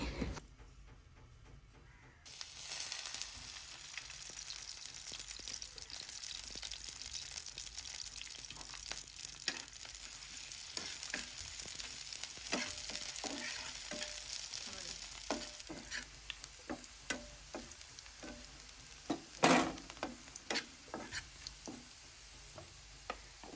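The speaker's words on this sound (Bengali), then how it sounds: "এখন পেঁয়াজ ও রসুন কুচি দিয়ে বাগার দিয়ে নিচ্ছি" Chopped onion and garlic sizzle in hot oil as a tempering for a Malabar spinach seed dish. After a brief quiet start, a steady, loud frying hiss runs throughout, with scattered clicks and scrapes from stirring.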